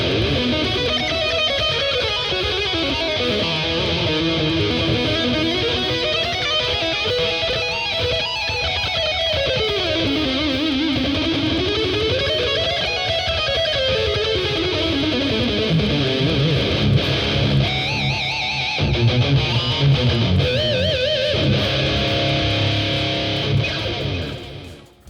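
A dense electric guitar, driven through a drive section into an MK300 modulation pedal and a Blackstar ID:X 100 amp, plays continuously with a sweeping, wavering effect rising and falling in slow cycles, loud and unaccompanied.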